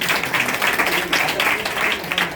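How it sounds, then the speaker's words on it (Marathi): Brisk clapping from an audience at a felicitation event for Narmada walking pilgrims, a steady dense round of applause heard close, with no talk over it. "त्यांच्यासाठी एकदा जोरात टाळ्या होईल"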